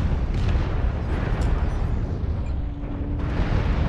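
An exploding mech in MechWarrior Online, a loud, continuous roaring blast with rumbling debris and crackle sustained throughout, close and heavy, with no speech.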